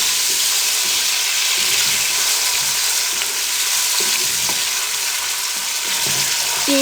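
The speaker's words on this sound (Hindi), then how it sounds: "अब इनको अच्छे तरीके से भून लें" Tomatoes frying with browned onions for a mixed dal, a steady close sizzle that stays continuous throughout with occasional faint clinks, no talking.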